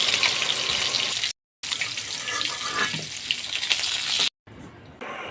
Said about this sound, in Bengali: তেল গরম হয়ে গেলে মাছগুলো দিয়ে দিব।